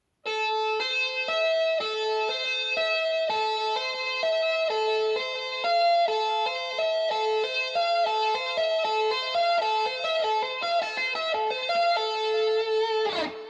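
An electric guitar plays a finger-tapping lick slowly, a steady run of clear, ringing repeated notes with crisp attacks, played alone and up close.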